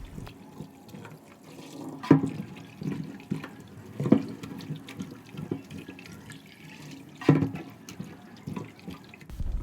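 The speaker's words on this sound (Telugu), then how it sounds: "ముందుగా పసుపు ఉప్పు వేసి శుభ్రంగా కడగాలండి, అప్పుడే నీసు వాసన పోతుంది." Raw prawns being washed with turmeric and salt for an Andhra prawn curry: running tap water and sloshing in a sink, with a few louder splashes and clatters standing out from the steady flow, and no talk.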